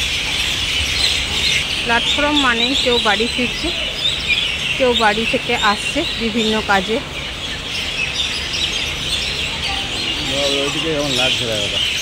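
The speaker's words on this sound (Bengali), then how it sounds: "কথাতে আছে শালিক পাখি কিন্তু খুব কিচিরমিচির করে" Myna birds chatter noisily on the platform of Raniganj railway station, with bursts of harsh, rising and falling calls repeating throughout while a person talks over them.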